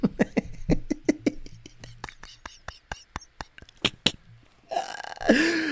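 A long run of soft, rapid ticking taps imitates gentle engine knock on E85 fuel, a light uneven patter that gives way to a brief burst of breathy voice at the end.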